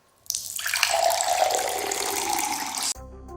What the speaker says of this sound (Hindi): दूसरे साउंड इफेक्ट में गर्म पानी